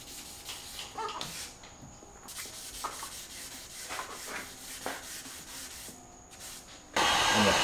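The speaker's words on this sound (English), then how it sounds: "I need to do some wet sanding with 1000 grit on some of these gritty areas where the Bondo is" Wet sanding over Bondo body filler with 1000 grit sandpaper on a B8 Audi S4, a steady soft rubbing and scraping in repeated strokes, close and fairly quiet, ending in a louder burst of broadband hiss.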